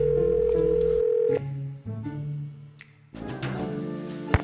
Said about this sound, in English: we have to make 2 phone calls, right